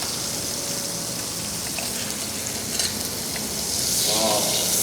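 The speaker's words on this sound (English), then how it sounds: "That nice sizzling brown butter." Steady, loud sizzling of steak frying in brown butter in a hot pan, a continuous crackling hiss with no talking.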